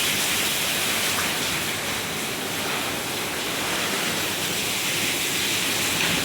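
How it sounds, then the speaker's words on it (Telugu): Rainwater pours and drips through a leaking house roof during windy rain, a constant loud rushing wash of water filling the space without pause. "అదిగండి అలా కారిపోతుందండి ఇల్లు"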